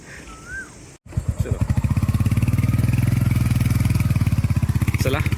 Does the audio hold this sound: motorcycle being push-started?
yes